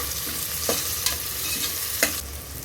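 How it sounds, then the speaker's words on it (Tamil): Tomatoes and onions sautéing in a single pot for sambar rice, a loud close sizzle with a few spatula strokes scraping the pot at regular intervals, no talking. "தக்காளி ஓரளவுக்கு வதங்கிடுச்சுங்க."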